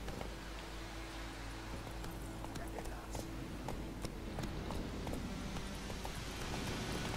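Horse hooves clip-clopping in the video game The Witcher 3, a steady rhythmic trot of repeated hoof hits set against a dense, constant ambient game background.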